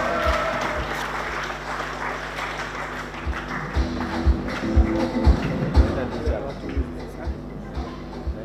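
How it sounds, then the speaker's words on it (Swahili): Applause from a crowd at a golf tournament prize-giving ceremony, with clapping building and swelling in the middle and scattered louder claps and taps throughout. "Makofi kwake tafadhali."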